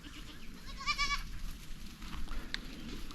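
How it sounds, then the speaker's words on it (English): Goats in their pen on a homestead give one clear nearby bleat, then a shorter faint call, over a background of shuffling and low rustling noise. "Here's our goat area. You can see them all come running"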